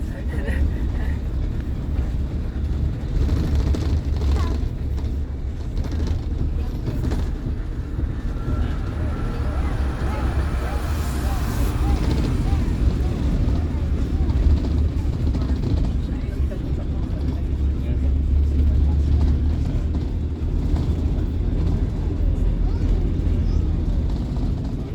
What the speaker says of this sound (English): we are now driving on the Athabasca Glacier